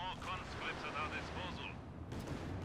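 Nebelwerfer rocket artillery fire in a 4v4 Company of Heroes 2 battle on Lienne Forest, heard as distant rumbling launches and booms at low level beneath a steady voice talking over the action.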